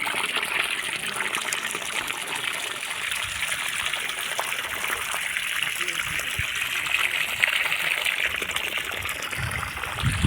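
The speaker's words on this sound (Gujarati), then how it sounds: "અને ગુલાબમાં જાય છે પાણી" Water gushes and trickles steadily onto rose plants in a village garden, a close, continuous flow lasting throughout with no talking.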